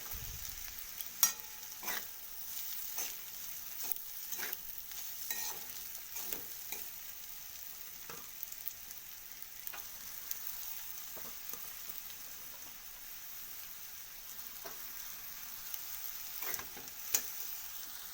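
Chow mein noodles and vegetables sizzle quietly as they are stir-fried in a pan, with a soft steady frying hiss broken by repeated light scraping and tapping of the spatula against the pan.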